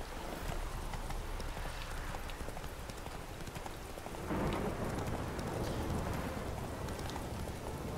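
Hooves of the horse Roach in The Witcher 3: Hearts of Stone, a rapid clip-clop gallop under steady rain with thunder rumbling, surging louder midway through.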